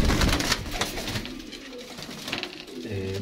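Pigeons coo in a breeder's loft in Faisalabad, soft rolling calls repeating over a dense, continuous background of bird noise, with no clear talk.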